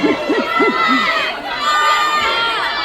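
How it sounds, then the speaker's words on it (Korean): A cinema audience at a film stage greeting in Busan cheers and shouts loudly, a dense crowd roar with high excited voices, and a few rising whoops at the start. "이렇게 뜨겁게 환호해 주셔서 너무 감사합니다"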